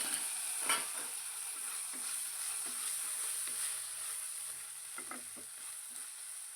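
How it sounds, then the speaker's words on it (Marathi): Already-boiled peas sautéing in oil with onion in a pan, a steady sizzle with occasional scrapes and clinks of a spoon stirring against the pan, close and alone. "मटार आपण ऑलरेडी उकडून घेतलेले आहेत पण तरीही तेलामध्ये दोन ते तीन मिनटांपर्यंत परतून घ्यायचे"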